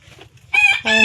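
Chickens on a poultry farm, close and loud: soft low clucks give way to two strong, harmonic squawking calls in quick succession.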